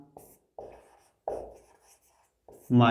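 Chalk or marker writes a chemical formula on a board in a classroom, giving several short scratchy strokes separated by pauses, with someone speaking at the end.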